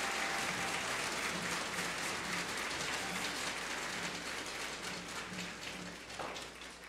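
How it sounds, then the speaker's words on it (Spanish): Applause for a group of regional finalists at a contest in Los Santos province fills the scene as a dense, steady wash of many hands clapping, sustained and fairly even, tapering slightly toward the end with no voices on top. "me atrevo a pedir un fuerte aplauso para este grupo de finalistas"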